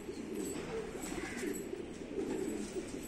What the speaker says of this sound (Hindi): ये मेरा कबूतर है